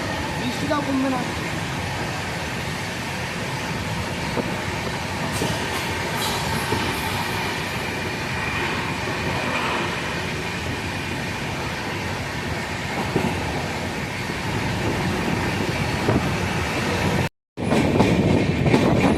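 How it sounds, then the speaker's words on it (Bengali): The Kolkata Kaziranga Express rolls along at a railway platform with a steady rumble of carriages and rhythmic wheel clatter, loud and close. A faint voice comes through under the noise, and the sound cuts out briefly near the end. "কলকাতা কাজিরাঙ্গা এক্সপ্রেস 2 নম্বর প্ল্যাটফর্মে এসেছে।"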